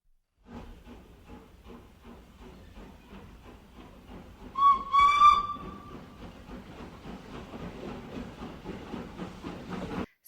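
A steam train whistle shrieks loudly for about a second midway through, over a steady rhythmic chuffing and rolling of wheels on rails that runs the whole time.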